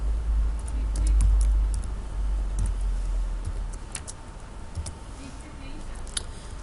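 Quick keystrokes on a computer keyboard while entering C code, sharp scattered clicks over a low rumbling background, with bursts and pauses rather than a steady rhythm.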